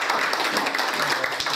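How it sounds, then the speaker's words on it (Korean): At a Korean community association board meeting, an audience claps together in a steady, dense round of applause that fills the whole brief moment at moderate loudness. "우리 인사 전에 우리 격려의 박수 한번 부탁드립니다."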